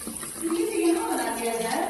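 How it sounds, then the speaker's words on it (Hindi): Water runs from a household tap in a steady, close hiss, with a voice speaking over the flow. "ये पानी चलता है कि नहीं?"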